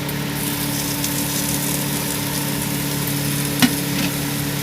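Spice masala with freshly added chopped tomatoes fries in a pan for a malai pyaz sabji, giving a steady low sizzle under a constant background hum, with one sharp clink of the spoon near the end.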